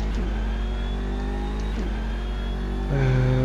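A BMW M6 GT3 race car in a racing game on the Suzuka circuit holds a loud, close engine tone that shifts pitch through gear changes and then rises in a hard rev near the end.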